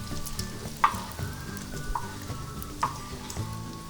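Bacon frying on a Rec Tec Matador flat-top griddle, a steady loud sizzle and crackle close by with a few sharp spatula scrapes against the metal surface, no talking.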